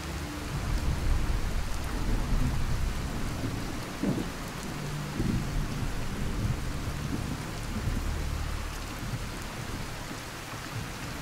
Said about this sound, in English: Sounds like a good storm.